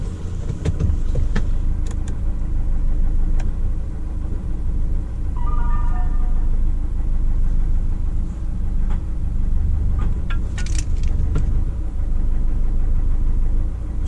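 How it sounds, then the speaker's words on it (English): A Renault Master van with its engine management light on idles nearby, the diesel running steady and loud with an irregular knock under the drone; a faint higher whine appears briefly midway. "Something does not sound good with this. It's knocking. Something's knocking."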